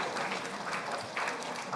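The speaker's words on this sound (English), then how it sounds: "applause for all the panelists" Short, moderate audience applause for conference panelists, a steady wash of clapping with a voice faintly heard beneath it.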